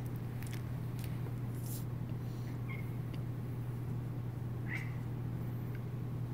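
A cat meows a couple of times, short mid-pitched calls over a steady low electrical hum from a vintage 1947 Westinghouse tube radio being recapped, with a few soft clicks and shuffles nearby.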